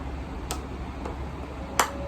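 Plastic high heels from a stripper's shoe bag knock together in three light, sharp clicks spaced apart, the last one the loudest, over a quiet room hum.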